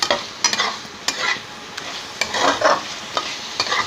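Spice masala for a tangra fish curry fries in a pan, a soft oily sizzle broken by repeated scraping and stirring strokes of a spoon, close and fairly loud, with no talk.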